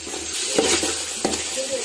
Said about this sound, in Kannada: ಟೊಮ್ಯಾಟೊ ಸ್ವಲ್ಪ ಫ್ರೈ ಆಗಿದೆ.